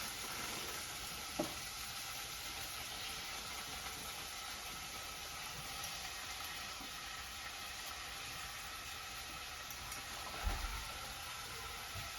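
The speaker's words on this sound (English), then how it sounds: "this bacon is already getting crispy, so I'm gonna go ahead and add my lima beans in here" Lima beans fry with crispy bacon in a pan, giving a faint, even sizzle throughout, broken by a couple of soft knocks of a utensil.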